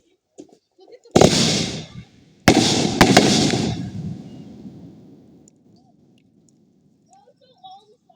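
Fireworks bursting outdoors on a farm on a winter night before a snowstorm, three loud sharp booms each followed by a long rumbling crackle that fades, with faint voices in between.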